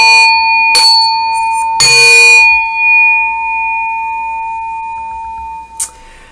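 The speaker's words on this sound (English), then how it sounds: "I'm gonna go ahead and hit the singing bell." A singing bell is struck, a bright metallic strike followed by a second louder hit, each ringing out in a long sustained pure tone that slowly fades, with a small clink near the end.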